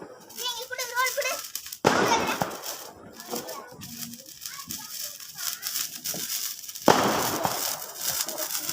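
Diwali firecrackers burst in loud sharp cracks, two big bangs standing out amid crackling pops, with children and adults talking and calling out throughout.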